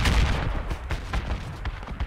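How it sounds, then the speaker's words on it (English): An armored personnel carrier fires at players in a military video game, sending out a quick flurry of heavy, booming shots that follow close together over a rumbling battlefield backdrop. "APC shooting at us."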